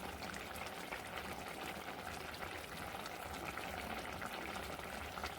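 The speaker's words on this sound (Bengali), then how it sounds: "মাছ দিয়ে তরকারিটা আর একটুখানি সময় ফুটিয়ে নিলাম" Fish curry with papaya simmering at a steady boil in a pot, a constant bubbling hiss that holds evenly throughout.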